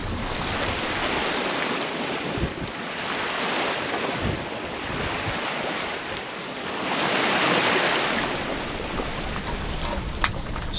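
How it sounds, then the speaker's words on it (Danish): Strong wind gusts and breaking waves surround a small sailboat at sea in cold weather, a loud steady rushing roar that swells and fades, with occasional knocks and splashes close by. "vinden den spidser meget til nu"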